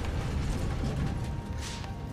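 A door mechanism in the video game Blades of Time grinds and ratchets with a steady creaking, mechanical churn lasting about two seconds, with no voices.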